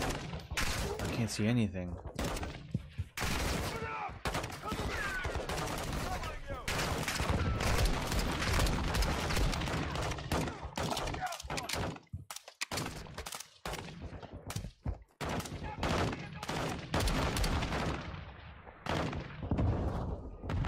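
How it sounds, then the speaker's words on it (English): Rapid gunfire from Call of Duty Modern Warfare 2 fills the scene, with dense bursts and sustained automatic fire crackling throughout alongside occasional thuds, while a person talks over the shooting. "My gun is just shooting by itself."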